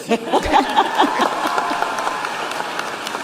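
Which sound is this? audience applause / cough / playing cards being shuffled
audience applause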